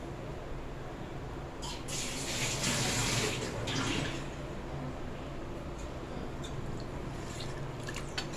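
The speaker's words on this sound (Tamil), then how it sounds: "தேவையான தண்ணியும் ஊற்றிக்குங்க." Water being poured into rava (semolina) for idli batter, a soft close splashing pour in a quiet kitchen, swelling briefly in the middle then settling to faint trickles.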